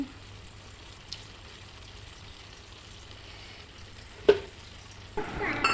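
Gravy poured into a pan of frying chicken biryani, a low steady sizzle with a sharp crackle near the end, then the frying grows louder and busier.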